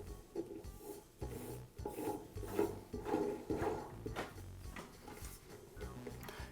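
A Rolair air compressor's filter assembly is threaded by hand into the cylinder head, giving soft, close rasping and rubbing scrapes in short repeated turns, quiet and alone.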